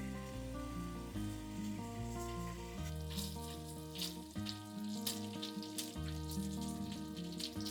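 Bacon browning in a cooking pot at a cabin, its fat rendering with a faint crackling sizzle beneath louder background music, brief bursts of spatter rising now and then.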